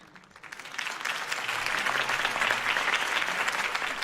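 Crowd applause after a campaign speech in the video game Telltale Batman, clapping rising from quiet into a dense, sustained ovation that stays loud to the end.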